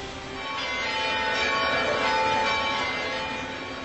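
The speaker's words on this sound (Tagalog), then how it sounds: "Nagpatunog ng kampana ang 24 na simbahan sa Kalibo kanina umaga" Church bells of 24 churches in Kalibo, Aklan ring continuously in the morning, their tones blending into a steady, resonant wash that swells slightly and then holds.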